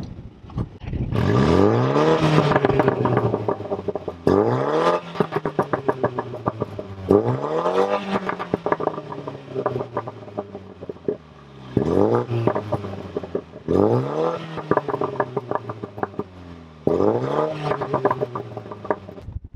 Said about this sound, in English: It's like popping and banging quite a bit.